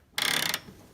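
A power wrench drives 17 mm hitch bolts on a 2005 Toyota Prius, one short loud rattling burst of rapid impacts lasting under half a second, close by.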